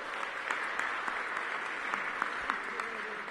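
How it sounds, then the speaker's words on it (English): A crowd applauds at a ribbon-cutting for a new recreation center, a dense, even round of clapping from many people that holds steady throughout with no voices over it. "Give them a round of applause."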